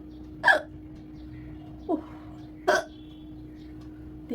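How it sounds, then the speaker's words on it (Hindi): A woman hiccups three times at a relaxed, uneven pace, each sharp gulping catch clear and close over a quiet indoor hum. "हिचकी आ रही है।"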